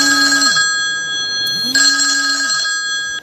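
A mobile phone ringtone plays loud and close, two repeated electronic ringing bursts separated by a short pause, with no talking.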